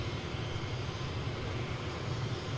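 Jet aircraft engines in the War Thunder air combat game, with a Sea Meteor F3 and MiG jets in the scene: a steady, droning roar holds at an even level throughout, with no talk over it.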